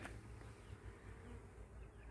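A continuous, fairly loud hum of non-native bees swarming near graves in Koondrook cemetery, steady in level from start to finish and heard alone without talking.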